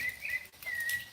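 A bird whistling outdoors, a few clear high sustained whistle notes with a short gap between, fairly close and alone.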